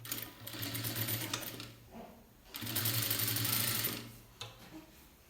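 A sewing machine stitching blouse fabric runs in two steady bursts of mechanical whirring, the first about two seconds and the second slightly louder, separated by a short pause, with a few faint clicks near the end.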